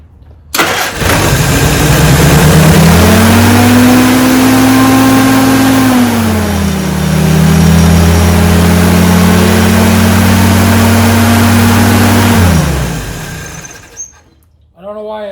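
A 1947 Willys engine cranks and fires, then runs loud and steady close by at wide open throttle. Its pitch rises, dips briefly and holds before it shuts off near the end.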